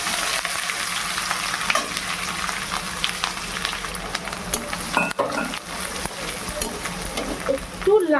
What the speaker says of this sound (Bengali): এইভাবে খুন্তিটা দিয়ে নাড়িয়ে নাড়িয়ে পেঁয়াজটা ভেজে নেব।